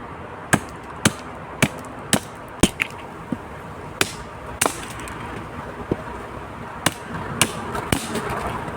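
A camp knife chops pieces of dry, hard wood in sharp, close, evenly spaced blows, about a dozen knocks with short pauses between them, over quiet outdoor background.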